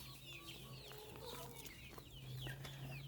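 Rhode Island chickens cluck on a farm, several birds calling in overlapping, repeated clucks at moderate distance over a steady low hum, with no talk.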